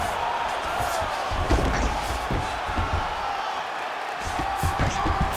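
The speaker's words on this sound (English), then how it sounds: "huge pop from the crowd as the fighters get back up to their feet" Fight crowd in an arena roaring and cheering as the two fighters get back to their feet, a loud sustained swell of voices with a few sharp bursts throughout.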